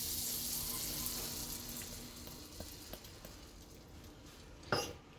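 Butter melts and sizzles in a pan before flour goes in for a spaghetti white sauce. A steady close hiss fades slightly over time, with a brief louder clatter near the end and no voices.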